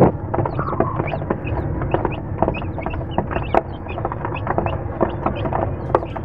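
A flock of chickens and chicks clucks continuously nearby, with many overlapping short calls and peeps over a busy farmyard background.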